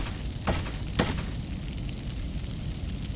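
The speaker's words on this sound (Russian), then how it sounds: "А чего же тут случился взрыв?" Cartoon explosions in an animated series: two sharp bursts close together followed by a sustained rumbling, crackling roar like fire, loud and with no talk over it.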